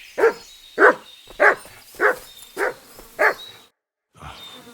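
The dog Mutt barking in Kingdom Come Deliverance 2: six sharp, evenly spaced barks close by, then a short silence before another bark begins.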